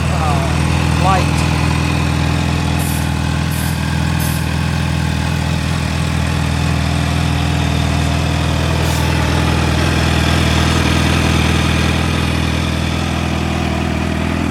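A supercharged 2021 Kawasaki Ninja H2 motorcycle idles with a steady, loud, low rumble throughout, with a person talking over it.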